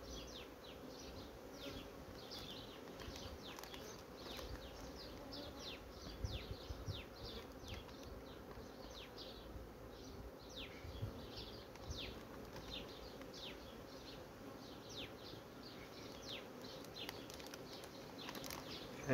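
A soft, continuous buzz from a starving honeybee colony of mostly newly emerged young bees, many overlapping bees droning faintly, steady throughout with no voices.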